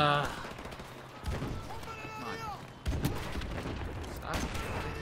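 Bursts of gunfire in Call of Duty Modern Warfare Remastered, a Domination match on Bog, sharp shots cutting through between stretches of a player's talk and game sounds.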